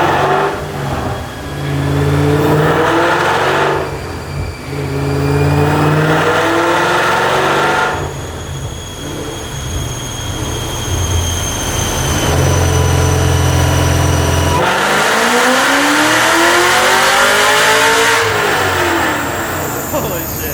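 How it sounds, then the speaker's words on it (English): A Ford Shelby GT500 running E85 fuel revs out in a third gear pull on a dyno, the engine repeatedly climbing in pitch to a loud high-rpm roar, dropping between runs, heard close with a fan and some talking around it. "I'll do a 3rd gear pull. We'll try to rev it all the way out"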